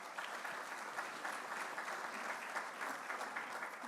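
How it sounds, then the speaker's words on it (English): An audience at an airport event applauds steadily, a dense wash of many hands clapping that stays even throughout, heard from a slight distance. "friend, Ed Nielsen, Chair of Transportation, give him a round of applause as well."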